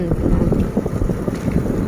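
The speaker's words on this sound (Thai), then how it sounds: "เสียงลมนะคะเสียงลมแรงมาก" Strong wind buffets the microphone in a steady loud roar with gusty rumbling pulses, and a voice faintly underneath.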